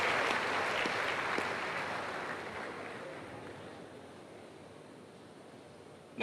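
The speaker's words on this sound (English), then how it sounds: "I don't know what you are clapping for. But whatever it is, let us clap together" Crowd clapping for the celebrant at a church celebration service, a steady wash of applause that slowly fades, moderately distant.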